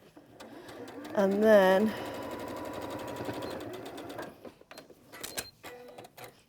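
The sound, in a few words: sewing machine stitching a seam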